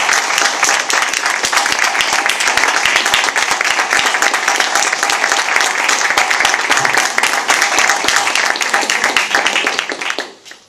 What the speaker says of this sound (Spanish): es el momento de levantar un aplauso por todos los ponentes